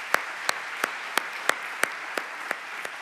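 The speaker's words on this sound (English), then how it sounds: "applause for those" Applause for the runners-up at the award and closing session of a scientific conference comes as about ten crisp, evenly spaced claps in a steady rhythm over a quiet room, sounding like one nearby pair of hands.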